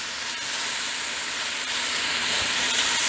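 Food sautéing in a cast iron pan outdoors, giving a steady, bright hiss of sizzling that holds constant, with a few faint pops and no talking.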